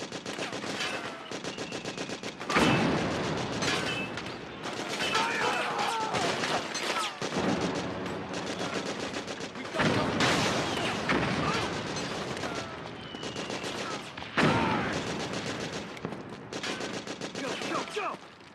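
Rapid machine-gun bursts and heavy gunfire from a Metal Gear Solid 4 battle scene, loud overlapping volleys with sharp booms, with soldiers shouting orders between the shots.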